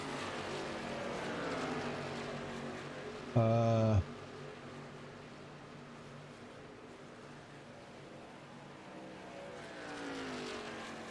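Race cars circle a track at Charlotte, their engines droning past in waves that rise and fall at middle distance, with one brief loud burst from a nearby car; a commentator talks over the engine noise.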